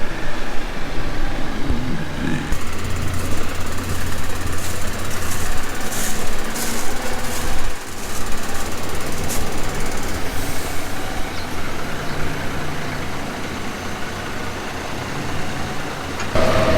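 A 300-horsepower tractor engine runs at a steady, loud, continuous rumble, brought in to pull a stuck load on a farm, with no talking over it.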